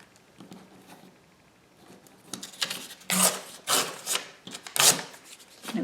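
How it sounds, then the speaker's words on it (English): A book page tearing by hand in several short rasping bursts, growing louder toward the end, close and with no talk over it. "So let's see if I can tear it."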